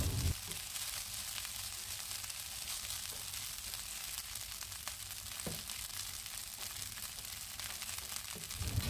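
Nasi goreng with sambal belacan fries in a pan, giving a steady close sizzle with a couple of sharp scrapes from stirring. No one talks.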